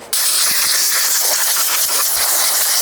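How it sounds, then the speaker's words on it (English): A steady hiss of protectant sprayed from a spray bottle onto car floor mats fills the clip from start to finish, loud and continuous, with faint soft taps beneath it. "spray them with the protectant"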